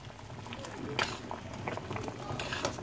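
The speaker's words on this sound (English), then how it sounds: "So now it has been boiling for over 7 minutes now." Water boils steadily in a pot up close, a constant bubbling with scattered pops and sharper bursts, heard on its own with no talking.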